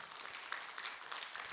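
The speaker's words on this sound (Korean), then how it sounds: "박수로 맞으세요." Audience applause at a Buddhist monk's lecture as a questioner is welcomed, a faint, steady patter of clapping filling the short stretch with no voices over it.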